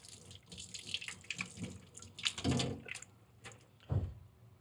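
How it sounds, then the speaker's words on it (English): Water runs from a sink tap in a pottery wheel setup area, an irregular close splash that swells and fades, with two louder gushes as things pass under the stream. "turn the water on, and then I can go ahead and wash it with soap and water."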